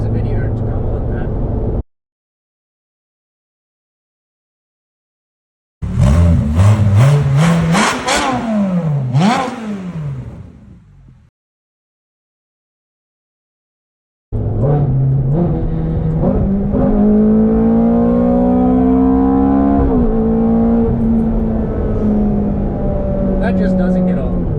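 A Ferrari F430 Spider F1 with two small mufflers and no X pipe revs hard at full throttle, loud rising exhaust wails with gear changes, cut by stretches of silence.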